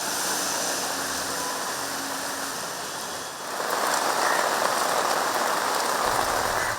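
Moderate rain falls steadily in Chennai as a dense, continuous patter on surfaces. It grows a little louder and fuller about halfway through, with no voices.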